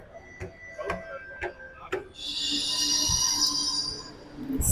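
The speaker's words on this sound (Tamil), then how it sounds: "வந்த உடனே ட்ரெயின் வந்துருச்சு, ஏறலாம்." A train rolls into a station platform in Chennai with a rising mechanical rumble and a loud high-pitched squeal of wheels and brakes, after a few sharp clicks, close by.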